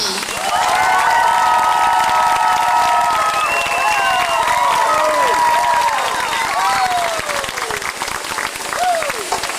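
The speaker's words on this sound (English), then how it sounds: "please put your hands and your voices together and show your support for your future high diver, Kuloa." A large crowd cheers and applauds loudly and steadily for a high diver, with whoops and high shouts rising over the continuous clapping.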